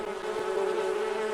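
A swarm of bees buzzing out of an opened bucket, a steady close droning hum that holds at the same level for over a second with no voices.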